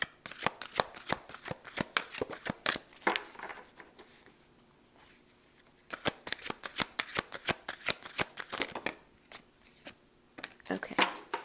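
Tarot-style playing cards are shuffled and handled up close in a series of crisp riffling bursts separated by short pauses, with a quiet voice speaking between some of them.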